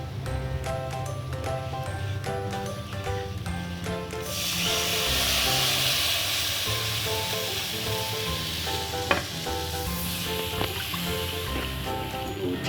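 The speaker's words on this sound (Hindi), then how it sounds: "इसके अंदर डाल रही दूध" Milk poured into a sizzling butter, desi ghee and flour roux for white sauce pasta; a loud, steady hiss of frying swells partway through and carries on over background music.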